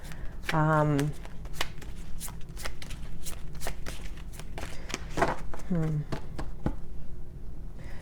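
Cards are shuffled during a card reading with close, papery riffles and soft ticking flips in quick runs, heard through the whole stretch under a woman's speech.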